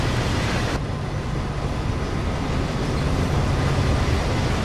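A train in Train Sim World's Great Western Express service rumbles heavily as it brakes, a loud, continuous low drone of wheels and carriages with a hiss that fades early on.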